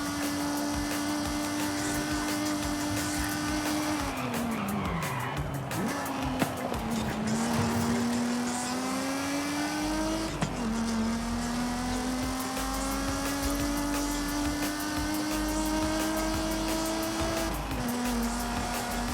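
A TVR sports car with side-exit exhaust pipes driving in Forza Horizon 5, its loud engine droning and climbing through repeated gear changes, with tire squeal and no talk.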